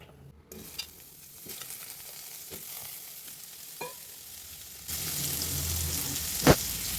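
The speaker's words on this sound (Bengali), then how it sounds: "এবার কড়াতে তেল দিয়ে আলুটা ভেজে নিচ্ছি নুন আর হলুদ দিয়ে" Potatoes with salt and turmeric drop into hot oil in a wok. After a few quiet seconds with faint clinks, a sudden, loud, close sizzle bursts up and holds, with a sharp clank of a utensil near the end.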